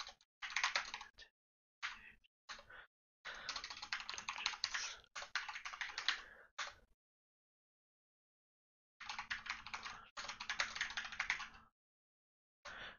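Bursts of typing on a computer keyboard while setting up World of Warcraft, rapid clattering keystrokes in several runs separated by silent pauses, close and clear with no talking.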